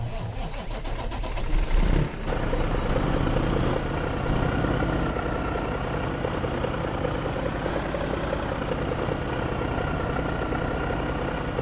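A heavy truck engine in the truck-driving game My Truck Game, still in beta, turns over and then settles into a steady, loud, continuous run with no one talking.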